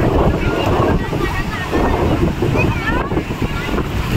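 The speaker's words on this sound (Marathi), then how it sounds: "आली लाट, आली लाट, आली लाट" Ocean waves surge and wash onto the shore under heavy wind buffeting the microphone, a continuous loud roar with voices chattering over it.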